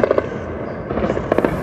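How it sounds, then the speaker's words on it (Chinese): Gunfire rings out in the streets of Kyiv's Obolon district, heard as a quick burst of sharp cracks followed by another short volley a moment later, loud over a rumbling urban background. "乌克兰首都基辅北部郊区奥波隆街头枪声四起"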